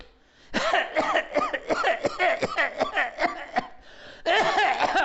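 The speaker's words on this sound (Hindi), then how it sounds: "तब एक दूसरा उपाय, आप जोर लगा के खांसिए" Repeated forceful coughing, a rapid series of harsh bursts close up, then a short pause before another strong cough.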